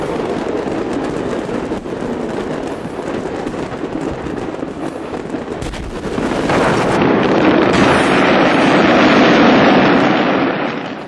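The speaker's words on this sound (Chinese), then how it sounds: "附近的居民还特地跑出来观看着突如其来的烟花秀" Fireworks explode in a fire during a fireworks celebration, making a dense, continuous, roaring crackle that grows louder and fuller after a few seconds and stays heavy to the end, with no voices.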